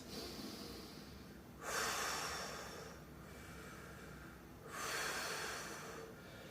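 Slow, deep breathing during a core workout stretch: two long, loud exhales roughly three seconds apart, close and breathy, with no talk.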